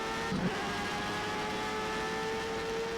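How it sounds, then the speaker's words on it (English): A Jordan 191 Formula One car accelerating in the rFactor 2 racing game at Imola, its high-pitched engine whining steadily at high revs, loud and continuous with no voices. "was straighten up the car and accelerate away"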